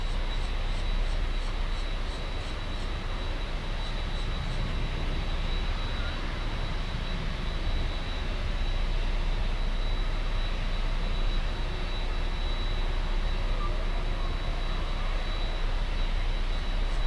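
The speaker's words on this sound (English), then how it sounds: "we have the 747 Cathay on taxiway Sierra 1" Jet airliners, including a Cathay Pacific Boeing 747, taxi at Miami airport, producing a loud, constant engine roar with a steady high whine holding evenly throughout.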